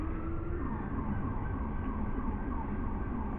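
An ambulance siren wails somewhere in heavy traffic on a bridge. It sits under a constant roar of road noise, and its tone rises and falls slowly throughout.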